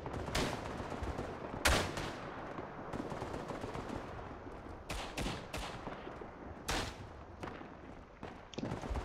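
Artillery blasts and rifle fire in the Tannenberg World War I game on a Baltic map, with several loud booming impacts spread through steady crackling distant gunfire.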